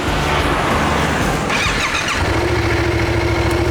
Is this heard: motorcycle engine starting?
yes